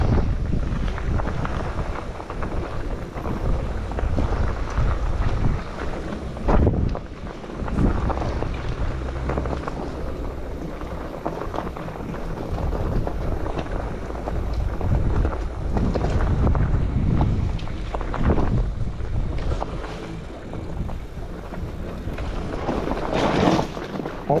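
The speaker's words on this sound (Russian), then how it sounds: "Ты смотри, какой ветер" Strong seaside wind gusting past an electric bike rider on the coast road near Yalta in April, loud continuous roaring buffets with sharp bursts of microphone wind noise, no talk.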